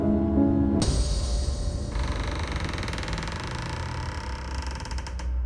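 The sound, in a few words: wooden stairs creaking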